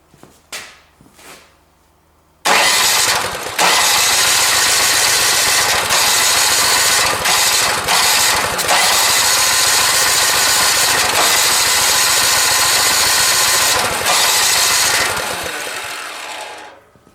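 Snow blower engine cranked after a few clicks, then catching and running loud and steady with throttle revs for about twelve seconds before cutting off, close and raw with no talking.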